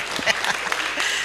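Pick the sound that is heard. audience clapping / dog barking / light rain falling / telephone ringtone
audience clapping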